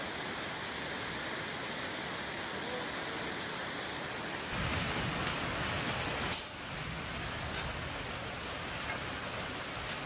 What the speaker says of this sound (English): Late Monday evening, a severe hailstorm hit Rome